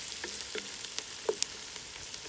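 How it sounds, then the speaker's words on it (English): Chopped ginger and green chili fry in oil in an outdoor garden kitchen for a lamb and spinach curry, giving a soft, steady sizzle scattered with faint pops and crackles. "Next is chopped ginger and green chili. Then I'm going to stir up and let it fry"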